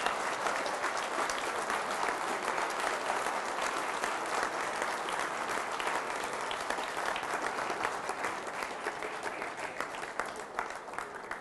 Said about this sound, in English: So okay, you can keep clapping.